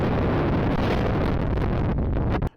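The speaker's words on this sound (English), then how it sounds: "As you could hear from the sound on the microphone, the wind was just out of this world." Strong wind at a marina buffets the microphone, producing a loud, continuous low rumbling roar that stops abruptly at the end.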